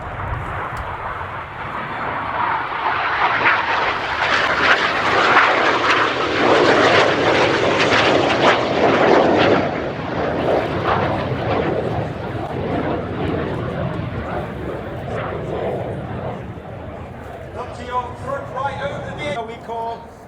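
RAF Red Arrows jets perform a flying display at RIAT 2024, a loud, sustained jet roar that swells as the aircraft pass and slowly fades over twenty seconds, with a commentator talking near the end.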